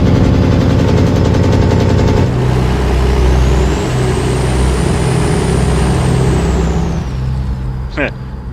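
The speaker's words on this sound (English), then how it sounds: "Hear this Jake brake." Loud, continuous simulated truck engine braking in American Truck Simulator, a custom long, lowered-chassis rig rumbling steadily for several seconds, with a rising whine near the end and a voice talking over it.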